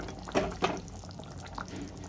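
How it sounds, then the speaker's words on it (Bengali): A thin katla fish curry with potato bubbles as it boils in the pot, giving a few soft wet pops and drips over a quiet, steady simmer, fairly faint and with no talking. "ঝোলটা যখন এইভাবে টকবক করে ফুটবে"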